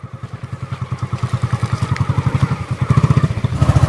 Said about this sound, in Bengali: জয় কিন্তু ভালো রকমভাবে বাইক বের করে নিয়েছে।